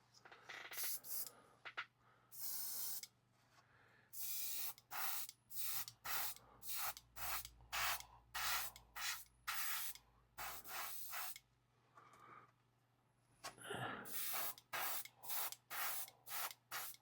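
A GHAD 39 airbrush fed by a Gallery GT918 air compressor sprays Kaleido paint in a long series of short misting bursts, each a loud close hiss with brief gaps between, and a low compressor hum underneath.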